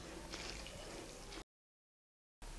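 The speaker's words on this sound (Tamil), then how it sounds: "1 டம்ளர் தண்ணி ஊற்றிருக்கிறேன்." Water is poured into a pan of Kerala-style anchovy (nethili) fish avial with cut raw mango, a soft, quiet liquid splash lasting about a second and a half before cutting to silence.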